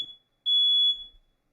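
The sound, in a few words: smoke alarm beeping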